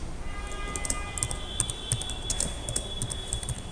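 Keys clatter on a computer keyboard while text is typed, a steady run of light, close clicks with small irregular gaps and no voices.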